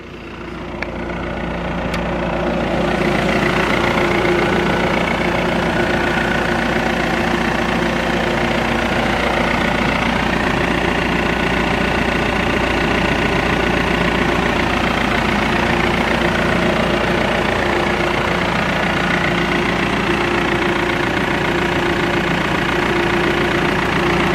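A BMW E46 engine starts and then idles smoothly and steadily, a loud, even rumble that holds for the rest of the clip.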